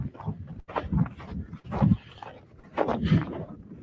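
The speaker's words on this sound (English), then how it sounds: "All the dogs run" Several dogs roam about outdoors in an open spot, giving off close, lively panting and snuffling bursts in uneven rhythm with brief pauses, loud and near, with no talk.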